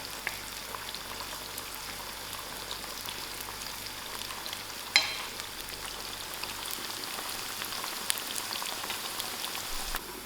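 Onions frying in melted ghee in a pan give a steady, even crackle and sizzle throughout, broken by a single sharper knock near the middle, with no voices.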